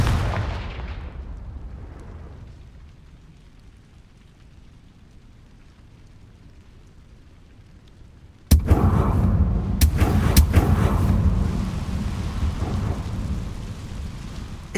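Confringo fire spell in Hogwarts Legacy, heard as a sudden loud blast that cuts in partway through after a low rumbling lull, followed by a few sharp cracks and a sustained roaring burn.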